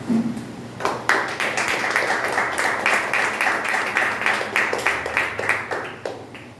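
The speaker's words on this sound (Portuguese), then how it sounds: "quem poder aplaudir o Senhor vai ser comigo" A church congregation applauds, many hands clapping in a steady, slightly rhythmic patter that fills the room, rising in loudness after the first second and continuing for several seconds without talk.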